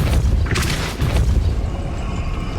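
A Depulso spell blast from Hogwarts Legacy gives two loud, booming bursts about half a second apart. Each has a bright crackling edge, and they settle into a low rumbling tail with no voices.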